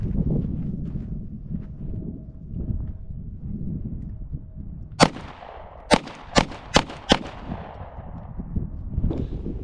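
Five sharp pistol shots from a Glock 17 at an outdoor target range, one shot then four in quick succession, loud and close over a steady background rumble with no talking.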